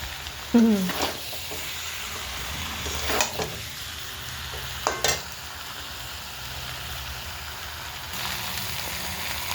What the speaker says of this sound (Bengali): আমার প্রায় মশলা কষানো হয়ে গেছে।